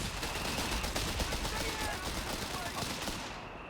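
Machine gun and rifle fire in Company of Heroes 3, dense rapid bursts of gunfire crackling continuously from several weapons, fading slightly at the end.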